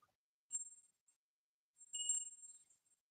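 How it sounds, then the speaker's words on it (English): A small bell rung for prayers gives a faint, thin ring that quickly fades, a brief tap follows, and then a longer, fuller ring decays gently in a quiet room. "That was a weak bell."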